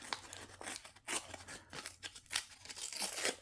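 Paper being torn by hand into pieces for junk journal signatures, heard up close as a series of short, dry ripping and rustling bursts at an uneven pace, fairly quiet overall, with no talking.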